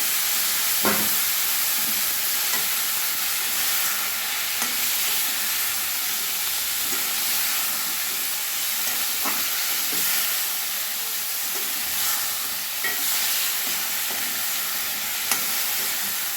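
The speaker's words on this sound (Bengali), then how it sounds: "এবার ফুলকপি আর আলু লবণ হলুদ দিয়ে আমি ভেজে নেব।" Cauliflower and potatoes fry in oil with salt and turmeric, giving a steady close sizzle and hiss with occasional soft stirring knocks, and no talk.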